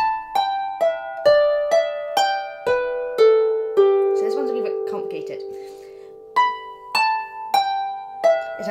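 A harp plays a phrase of a tune, a rhythmic run of plucked notes that steps downward, then sustains briefly before further plucks; close, clear and alone.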